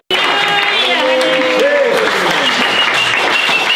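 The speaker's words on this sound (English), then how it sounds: "Give a mighty clap offering." Loud, dense clapping from a church homegroup congregation during a clap offering, with voices cheering and calling out over the continuous applause from start to finish.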